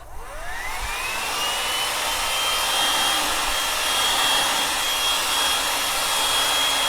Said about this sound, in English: Let me grab my heat gun so that we can give it a blast